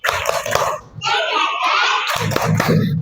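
An Indonesian second-grade class joins in a rhythmic clapping chant, with quick claps under children's voices at the start and end and a shouted group cry in the middle.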